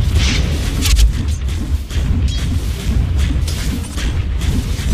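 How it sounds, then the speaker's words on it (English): Dull booms and crackling bursts from a tower under attack in the battle game Dota 2, layered over a steady rumble of combat with repeated impacts and no voices. "Dire's bottom tower is under attack."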